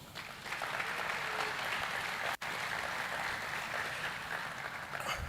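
Audience applauding at a new regional and international student orientation, steady dense clapping filling the room for about five seconds with a brief cut midway.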